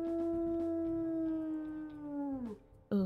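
A wolf howl from the WolfQuest video game: one long, deep, sustained howl that gradually falls in pitch and fades near the end, heard alone and close, followed by a brief sharp onset at the very end.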